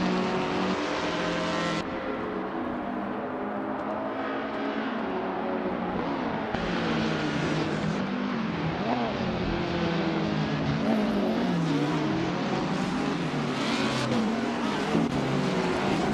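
Race car engines roar continuously in a racing video game at the start of a race, several cars droning and revving together with shifting pitch and occasional tire squeal, loud and steady throughout.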